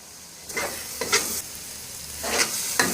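Carrot halwa stirred in ghee with a spoon, cardamom added, giving a soft sizzle beneath several distinct scraping strokes in bursts, close and fairly quiet, with no voices.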